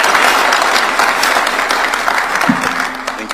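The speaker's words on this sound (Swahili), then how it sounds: "Tumpige makofi ya Kenya" Loud, dense applause from a crowd at State House welcoming Nairobi governor Johnson Sakaja, continuous clapping close by, with a faint voice briefly near the end.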